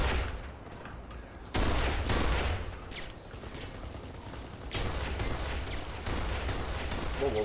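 Dense, continuous gunfire and heavy blasts in the shooter Kane & Lynch: Dead Men during a breakout, loud and close with repeated surges of rapid shots and no pauses.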